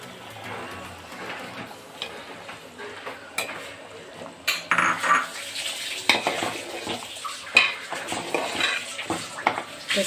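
Boiled eggs go into a pot of simmering Andhra-style egg pulusu, with irregular clinks, knocks and stirring clatter against the pot that grow busier and louder as they continue.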